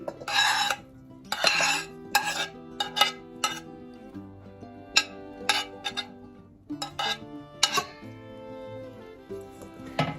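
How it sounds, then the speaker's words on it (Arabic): Cooking utensils clink and scrape against a tray while coriander, peppers and tomatoes are stirred together for a baked sea bream dish, with irregular close clatter and no talking. "هنقلب المكونات كلها مع بعضها كده كويس"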